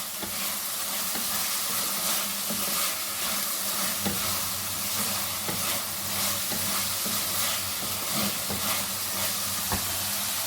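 Carrots, capsicum and cabbage stir-frying on a high flame, a dense, loud, continuous sizzle and hiss with soft rhythmic scrapes of stirring running throughout, close up and without talk.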